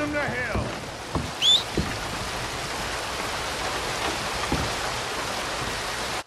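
Steady rain in Red Dead Redemption 2 patters in a continuous hiss, with a few soft knocks and a brief high chirp near the start, no speech.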